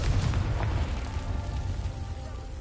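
A Confringo spell explosion in the Hogwarts Legacy video game: a deep, rumbling fiery blast that holds loud at first, then slowly fades into a lingering roar, with no voices over it.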